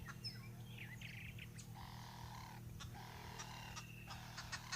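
Faint calls of green wood hoopoes in the distance: chattering, cackling bursts and scattered chirps over a low background hum.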